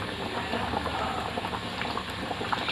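Fried eggs simmer in curry in a pan over a low gas flame, giving a steady close bubbling and sizzling hiss that continues evenly throughout with no talk.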